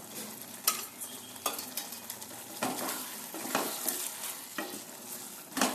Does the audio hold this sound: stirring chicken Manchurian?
yes